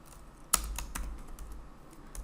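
Keys on a computer keyboard tap quietly as code is typed, a few distinct clicks with one sharper strike, close and faint in a quiet room.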